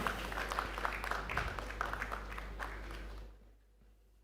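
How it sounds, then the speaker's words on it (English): Audience applause at a Nigerian economic summit dialogue session, a dense steady patter of many hands clapping that fades out toward the end. "Let's keep a round of applause going"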